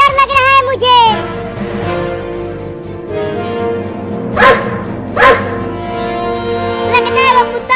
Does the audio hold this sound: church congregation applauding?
no